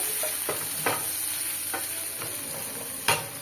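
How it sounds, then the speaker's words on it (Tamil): Food sautéing in a frying pan while crab and prawn masala is cooked, a steady sizzle broken by several sharp scrapes and clanks of the stirring utensil, close up with no talking. "நல்லா வதங்கட்டும்."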